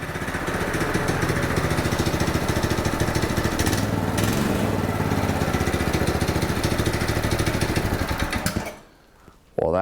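A go-kart engine is run on throttle worked at the carburettor, giving a loud, rough, continuous chugging roar for about nine seconds before it suddenly dies away to near quiet.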